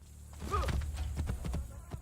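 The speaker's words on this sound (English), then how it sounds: "now we get the call, the armored horse" Armored horse hooves in the video game Assassin's Creed Brotherhood, a soft run of clip-clop steps with a brief whinny near the start, fairly faint and steady under light background noise.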